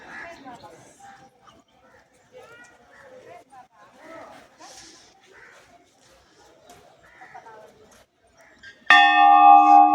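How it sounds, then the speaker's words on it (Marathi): A large temple bell at Theur rings out with a loud, sustained metallic tone near the end, after soft talking and distant background chatter. "लय मोठा घंटा आहे राव"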